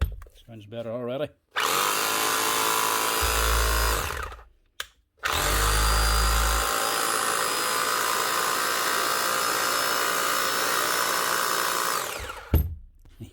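A 20-year-old Bosch GBH 4 DFE SDS+ hammer drill, freshly regreased, runs in long loud whirring bursts with brief pauses between them, its pitch rising as it speeds up.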